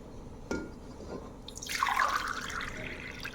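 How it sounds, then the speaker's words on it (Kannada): Two glasses of water poured into a pot of toor dal and vegetables for sambar: a light knock near the start, then a steady, close splashing pour building in the second half. "ಇದಕ್ಕೆ ನಾನು 2 ಗ್ಲಾಸ್ ನೀರು ಹಾಕ್ತೀನಿ."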